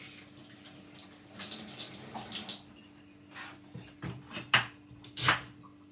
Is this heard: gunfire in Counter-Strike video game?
no